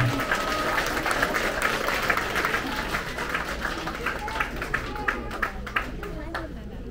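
A crowd applauds honor roll recipients at a 6th grade promotion ceremony at Woodbury Elementary School, with dense, sustained clapping and scattered sharp claps standing out, plus faint chatter mixed in.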